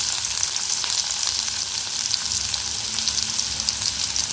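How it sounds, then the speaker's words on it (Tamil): Onions sauté in a hot pan for banana stem kootu, a loud, dense, unbroken sizzle that holds steady throughout with no voices. "வெங்காயம் சேர்த்து நல்லா வதக்கிக்கலாம்"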